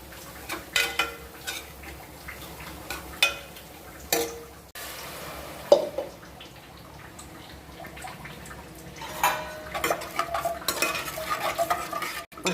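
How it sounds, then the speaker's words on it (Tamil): Spice powders (garam masala and coriander powder) fried and stirred in a pan for egg gravy: repeated scraping and clinking strokes of a spoon over a faint, low sizzle. "1 நிமிஷம் ஃப்ரை பண்ணணும்."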